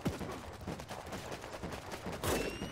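Sniper rifle fire in the war strategy game Warpips, heard as a dense run of sharp distant gunshots amid battle noise, with a louder burst near the end.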